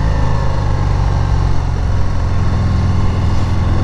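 A 2019 Harley-Davidson FXDR with its 114 engine pulls in third gear, a steady, loud, deep engine drone with low rumbling harmonics sustained throughout, heard up close from the rider's position.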